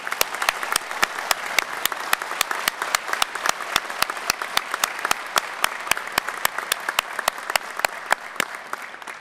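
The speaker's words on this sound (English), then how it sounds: "Please join me in a round of applause." An audience at a fire academy graduation ceremony applauds steadily, dense rapid clapping from many hands filling the whole stretch at an even, fairly loud level.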